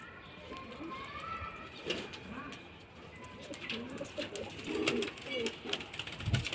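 Pigeons of the Arfali and Khadrawi breeds coo softly in a loft, low rounded calls repeating close by amid general background noise, with someone speaking over them.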